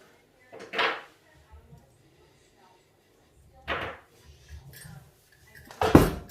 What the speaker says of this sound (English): That's Felicity playing dominoes.